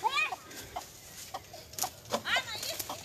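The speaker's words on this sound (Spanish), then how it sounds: "No pueden agarrar una simple gallina" A hen clucking in short, sharp bursts while children chase it around a yard, the calls close and intermittent among children's excited shouts.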